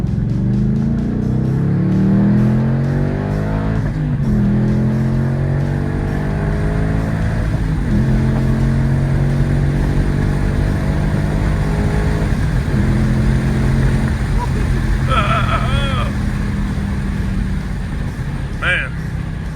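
A 2021 Ford Mustang Mach 1 on Michelin Pilot Sport tires revs hard around a track, its engine pitch climbing and dropping through repeated gear changes, loud and close, with brief tire or squeal tones late on.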